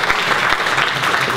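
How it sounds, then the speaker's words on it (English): A burst of dense applause from a crowd, steady and loud throughout, with many hands clapping at once. "I think he deserves an applause too."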